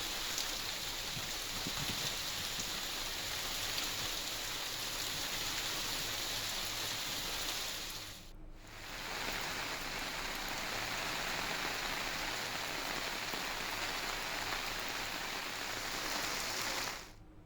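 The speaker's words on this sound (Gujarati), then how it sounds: "વહેલી સવારથી જ ધોધમાર વરસાદ વરસ્યો." Heavy early-morning downpour in Saurashtra, a dense, unbroken roar of rain on surfaces that dips once briefly and then continues.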